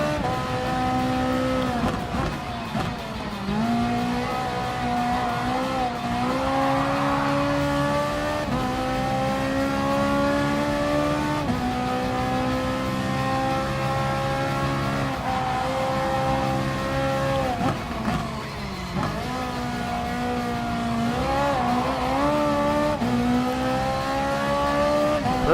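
A Ferrari 458 Italia GT3 races in Gran Turismo Sport, its engine a steady, sustained whine that climbs through the gears, with brief dips at each shift across the lap.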